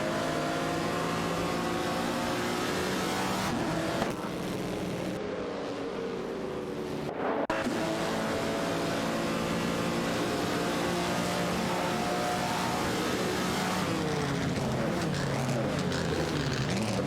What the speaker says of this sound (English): Gary Z, and Sabine 27 are in a heated battle for 8th place, with some impressive cars on the track.